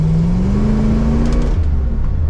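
A 1964 Ford Comet with an AOD transmission swap cruises at speed, its engine holding a steady drone with a rising tone before easing off, loud and close throughout.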